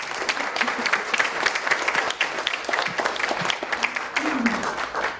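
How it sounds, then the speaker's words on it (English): Audience applause at a security summit at Harvard, a steady wash of many hands clapping that is moderately loud and sustained for several seconds. "So a special round of applause for Francesca."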